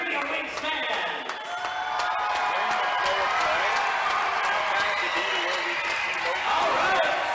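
A home crowd of Wichita Wings fans roars inside Hartman Arena, a sustained loud wash of cheering and clapping that swells toward the end, with an announcer's voice over it.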